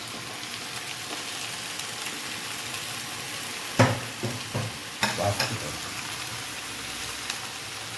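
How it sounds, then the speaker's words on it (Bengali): Chopped vegetables and Malabar spinach fry in a pan in a village home kitchen, a steady soft sizzle broken midway by a few close scraping stirs. "এই সবজিগুলো দেখো অনেকটা ভাজা ভাজা হয়ে গেছে, এবার আমি একটু শাক দিয়ে দিচ্ছি।"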